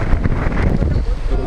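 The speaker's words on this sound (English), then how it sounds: "The wind speed here at Herzog Boulevard, 100 kilometers an hour is what they are gusting." Strong gusting wind at around 100 km/h blasts across an exposed boulevard in Cape Town during a stopped cycle race, a steady loud roar buffeting the microphone throughout.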